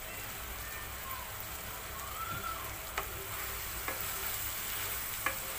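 Meat braises in a pan for khichuri with a soft continuous sizzle, occasional faint taps and scrapes of stirring, and a brief quiet tonal whine partway through, all at a low level.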